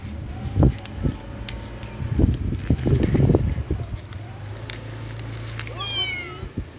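A cat gives a short meow amid scattered bumps and shuffling noises, with faint outdoor background hum throughout.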